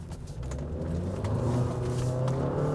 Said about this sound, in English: It counts. It's tire spin.